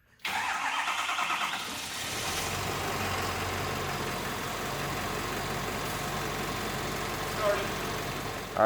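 A diesel truck with a damaged CP4 fuel pump cranks briefly, then the engine catches and settles into a steady, close idle that runs to the end, with one small bump in level near the finish.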